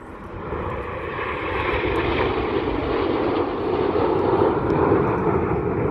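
RAF Red Arrows jets flying in formation at an air festival, a broad roaring engine wash that swells and holds loud for several seconds, heard from the ground with no talk.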